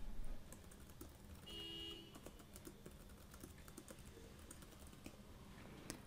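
Keys on a computer keyboard tapped in short, quiet clusters of clicks, close by and faint, with no one speaking.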